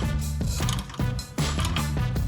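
Ratchet clicking in quick bursts while tightening a bolt on an Advanblack Lowrider ST fairing fitted to a 2016 Harley-Davidson Street Bob, close and steady with brief pauses between runs.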